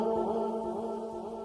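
A short pitched-down, muffled vocal effect drones steadily, a dark, low, smeared voice with a hollow, filtered tone and no clear words.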